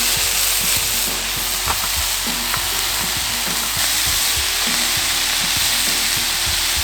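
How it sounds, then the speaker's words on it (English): Cup ramen fried rice sizzles steadily in a hot pan, a continuous loud frying hiss with scattered stirring clicks and scrapes, and no voices. "And we're gonna cook this until our desired doneness."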